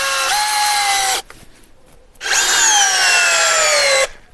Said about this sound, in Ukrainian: беру один з цих шурупів і пробуємо поперек волокон